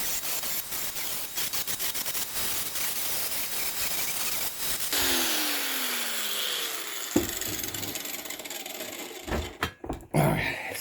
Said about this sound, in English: let's take it over here to the hand grinder and straighten it on up